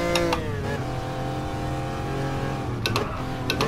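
A Lancia Stratos engine droning and revving in GT Sport, steady and close with shifting pitch through a drift, punctuated by short crackles and gear changes.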